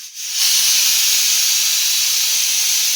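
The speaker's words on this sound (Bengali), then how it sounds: "ডাল সিটি পড়ছে মনে একটু কমিয়ে দে তো" A pressure cooker full of lentils vents steam loudly at close range, a harsh, steady hiss that swells within the first half second and holds without a break.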